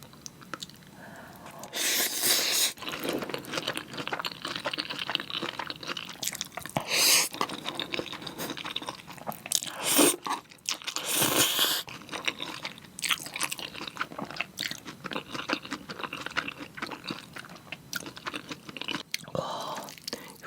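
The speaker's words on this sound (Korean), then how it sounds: "수육이랑 파김치 있고 막걸리까지 같이 먹어볼게요" Close, intimate chewing and biting on spicy mixed noodles topped with raw beef, boiled pork and green onion kimchi, wet squishy mouthfuls coming in bursts with brief pauses, no speech.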